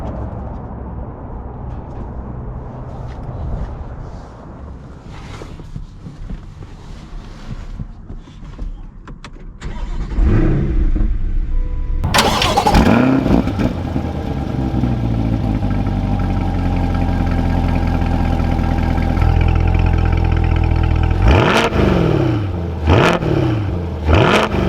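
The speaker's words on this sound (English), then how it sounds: "Let's take this C8 Corvette out and see how it drives" A 2020 C8 Corvette Z51's mid-engine starts and revs, then settles into a steady loud drone as the car pulls away, with a few sharp rev spikes near the end.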